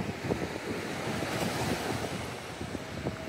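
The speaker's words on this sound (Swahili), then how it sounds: "Mawimbi ni makubwa kweli." Big ocean waves break steadily on Kawe Beach along the Indian Ocean, a continuous loud roar of surf mixed with gusting wind noise on the microphone. No voices are heard.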